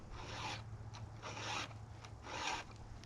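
A hand file sharpening the gullet of a chainsaw tooth outdoors in the woods, three steady rasping strokes in an even back-and-forth rhythm, close and fairly quiet with no talking.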